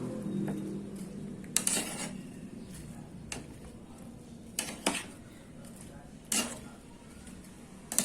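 Mixed fruit pachadi with grapes stirred in a pan over a medium flame: faint, sporadic scrapes and clinks of a spoon against the pan over a quiet background.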